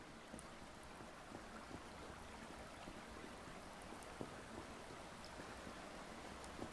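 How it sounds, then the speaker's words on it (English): A waterfall in a cave in the Subsistence video game makes a faint, steady rushing hiss with small splashes scattered through it, and no one speaks. "There is a waterfall in here that's really, really pretty."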